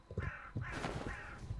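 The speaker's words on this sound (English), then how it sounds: "crows are fucking creepy, dude. The noise they make is just... it's unnatural." A crow caws in the horror farming simulator video game We Harvest Shadows, three harsh, rasping caws in quick succession, loud and close, with no talk over them.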